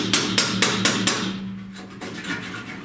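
A hammer taps to loosen the firewall of a 1930–31 Model A Ford: five evenly spaced, sharp metallic knocks up close, then a quieter lingering scrape and rustle.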